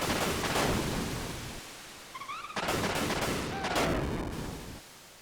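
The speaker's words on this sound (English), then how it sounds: "That explosion." Explosions and gunfire-like blasts from the Front Mission: Gun Hazard video game, dense broadband bursts filling most of the stretch with a brief lull in the middle, alone without talk.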